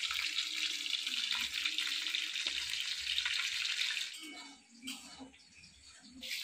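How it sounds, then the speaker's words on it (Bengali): Katla fish sizzles and spits in hot oil in a pan after being turned over, a dense, loud, continuous frying hiss that softens near the end, with occasional clatter. "এক সাইডে মাছটা ভাজা হয়ে গেছে, এখন আর এক দিকে দিয়ে দিই"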